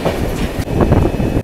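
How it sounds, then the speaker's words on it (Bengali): The CSMT Duranto Express running on rails, a loud close rumble with rhythmic clickety-clack of wheels over rail joints, cut off abruptly after about a second and a half. "টোটাল 1964 কিলোমিটার আমরা পাড়ি দেব এই ট্রেনে"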